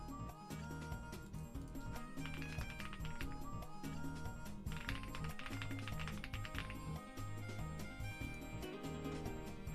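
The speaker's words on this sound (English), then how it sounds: "You'll hear my keyboard?" Someone types on a computer keyboard, a busy run of soft clicks and taps sitting under louder music and background noise, close but partly masked.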